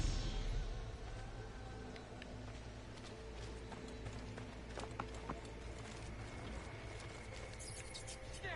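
Horse hooves clip-clopping in the video game Assassin's Creed Origins, a steady run of hoofbeats under continuous game ambience with no talk over it.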